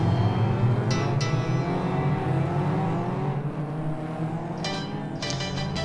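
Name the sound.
stock rod race cars starting the championship race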